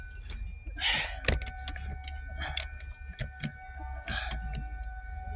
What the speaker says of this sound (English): it also has solenoids here. So we're gonna see if we can hear some clicking.